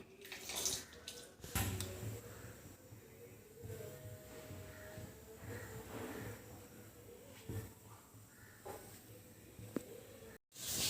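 Water is poured into a pan of jaggery in a quiet, continuous trickling stream, with a few soft knocks and a brief clatter.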